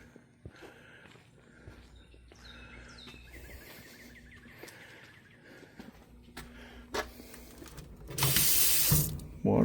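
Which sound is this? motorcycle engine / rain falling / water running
water running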